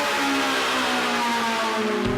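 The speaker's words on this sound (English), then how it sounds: "the Ferrari 458 Italia, the only normally aspirated car here, whose 570 horsepower V8 shrieks with such ferocity" Ferrari 458 Italia with its 570-horsepower naturally aspirated V8, a sustained high-pitched shriek holding nearly level at full song, loud and close for about two seconds.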